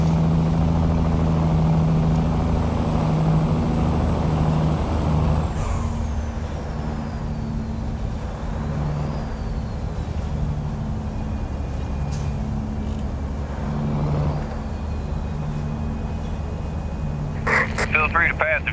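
Low-horsepower truck in American Truck Simulator labouring up a hill, a steady deep engine drone running throughout with a brief air-brake hiss partway and rattling clicks near the end, while voices chat over it.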